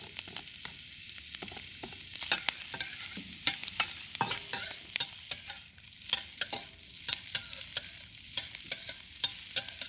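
Onion and green onion stir-frying in a pan for kimchi shrimp fried rice, with a constant hissing sizzle broken by frequent sharp spatula scrapes and clatters at an irregular pace, close and moderately loud.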